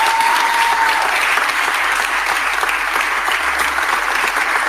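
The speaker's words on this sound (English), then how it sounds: "Give Joe Grace a round of applause." A large audience applauding Joe Grace at a Philadelphia mayoral press event, loud dense clapping that holds steady throughout with no pause.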